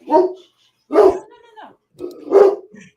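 A pet dog barks near the microphone indoors, three loud separate barks or bark bursts about a second apart, each trailing into a short whine, with no talk over them.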